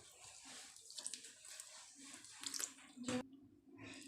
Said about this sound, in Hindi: थोड़ा थोड़ा गर्म पानी डाल के डो तैयार करेंगे।